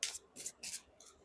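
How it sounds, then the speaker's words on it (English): Tarot cards being shuffled by hand in a card reading, four quick papery riffling bursts close to the microphone with short pauses between, no talk. "All right, last shuffle."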